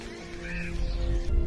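Crows cawing in a short burst, a harsh drawn-out call rising in the middle and then fading into low background noise, fairly close.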